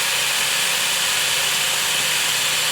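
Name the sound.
portable chainsaw running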